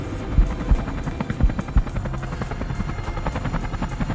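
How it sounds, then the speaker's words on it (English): A huge Russian heavy-lift helicopter's rotor thumps steadily, a deep pulsing throb with engine buzz, loud and continuous with no voices. "A huge Russian helicopter, the most powerful in the world, will lift the sailing machine out into the open."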